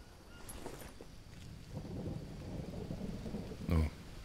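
Steady rain pours outside a cave in the survival game Green Hell, a soft continuous wash with a deep thunder-like rumble rising briefly near the end.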